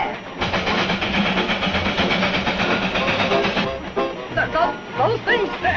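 An old train running fast, a steady loud rattling clatter of the cars and engine throughout, with people talking over it near the end.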